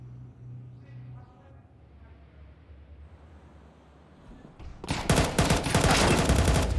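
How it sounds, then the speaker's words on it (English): Pistol fire in a Counter-Strike match at IEM Dallas 2025: quiet game ambience first, then a loud, rapid burst of crackling shots filling the last two seconds. "Another headshot found by the pistol of Rops, but not able to convert it"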